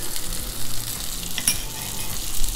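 Slider patties frying well done, a loud, dense, continuous sizzle close by with a brief clink partway through.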